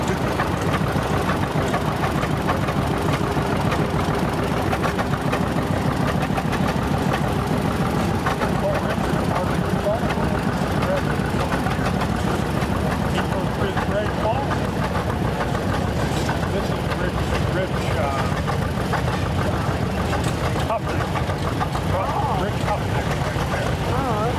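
A Ford tractor engine runs in an antique power association parade at a tractor show, a low steady rumble close by that carries on for the whole stretch amid outdoor background noise.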